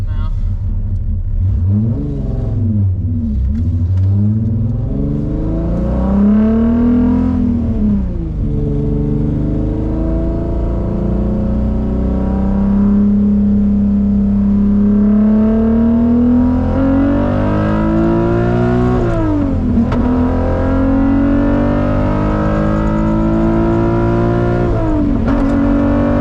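Swapped 12-valve VR6 in a Mk2 Volkswagen with Techtonics 288 camshafts, heard from inside at wide-open throttle: loud revving engine climbing through several gear pulls, pitch rising and dropping between shifts.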